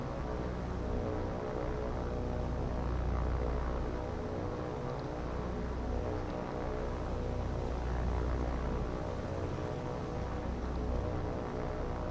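Torpedo bomber aircraft in the naval combat game War on the Sea produce a steady, loud propeller drone with a deep rumbling hum that holds constant, with no voices.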